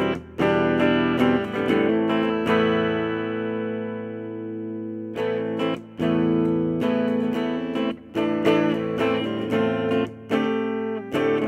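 Electric guitar played through a Hughes & Kettner CreamMachine with a piezo pickup blended in, giving a brighter acoustic-like tone: strummed chords and a ringing sustained chord, then rhythmic chord stabs, loud and close with no talking.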